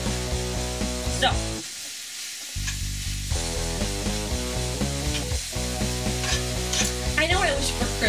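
Steady sizzling of food frying in a pan, with a busy layer of background music running throughout and a brief dropout in the middle.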